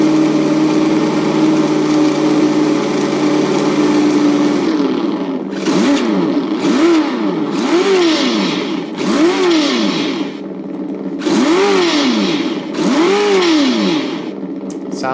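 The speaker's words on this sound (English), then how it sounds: "Sounds like it's got a blow-off valve for some kind of a big Baja off-road racer." Off-road Baja racer engine note from an ESS-One engine sound system, a steady drone giving way to repeated rising and falling revs with blow-off bursts, loud and close with no talk.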